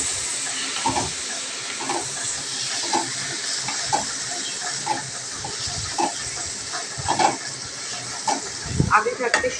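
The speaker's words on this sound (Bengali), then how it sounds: "দিয়ে এটাকে ফ্রাই করবো এখন" Soybeans soaked in salt water fry with salt and turmeric in a pan, a continuous sizzling hiss broken by regular scraping stirs, with a few louder clanks toward the end.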